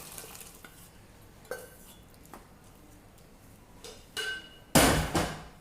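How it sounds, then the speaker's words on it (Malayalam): A spoon scrapes and taps as cooked green peas, potato and carrot are stirred in a pressure cooker. The knocks are sparse and mostly soft, with a louder clattering scrape near the end. "ഇപ്പം നമുക്കിത് ഇതിൽ മിക്സ് ചെയ്യാം"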